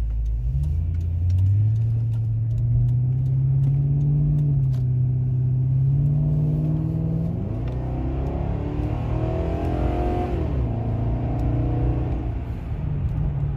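Lincoln Town Car with a 4.6L V8 and modified exhaust accelerating from a stop, a loud, close, deep engine rumble climbing in pitch through the gears and holding a steady growl throughout.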